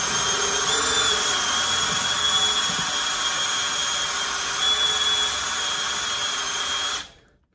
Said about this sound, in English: I'm gonna tilt the drill bit just a hair,